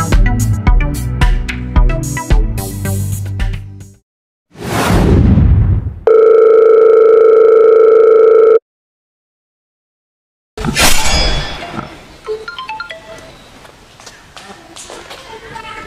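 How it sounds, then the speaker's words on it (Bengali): A telephone call tone sounds as a steady, unbroken electronic hum for a couple of seconds between bursts of speech and shuffling noise, then cuts off abruptly into silence. "আমি বড় ভাইকে ফোন দিচ্ছি"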